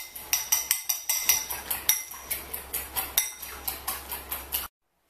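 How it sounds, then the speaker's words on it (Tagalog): Metal spatula scraping and clanking rhythmically against a wok while stir-frying mixed seafood fried rice with basmati rice, steady repeated strokes close up, then cutting to silence. "I-start na natin i-fry sa wok"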